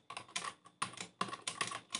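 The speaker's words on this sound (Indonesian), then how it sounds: "kalau saya ketikkan seperti ini" Fingers type on a computer keyboard in several quick clusters of close, crisp keystrokes separated by short pauses, quiet and without speech.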